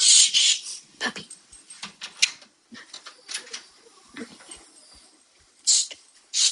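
An excited puppy whimpers and yips in bursts of high, close whines and squeaks, with breathing and soft shuffling between them and no clear talk.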